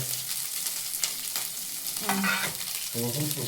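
Beetroot palya fries in a pan on the stove, giving a steady bright sizzle with scraping stir strokes and a few clattering spatula taps, close and clear with no talking.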